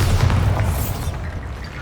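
A Bombarda spell explodes in Hogwarts Legacy: one close, loud boom with a burst of debris that rolls off into a fading rumble.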